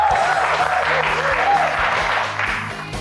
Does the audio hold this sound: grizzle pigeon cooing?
no